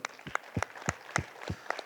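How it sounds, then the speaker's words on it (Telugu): Audience at a Guru Purnima celebration in Kadthal claps in a sparse, uneven run of about seven separate loud hand claps over two seconds, with no talking. "సో ఆ శ్వాస గురువు గట్టిగా మనం క్లాప్స్ చేసుకుందాం"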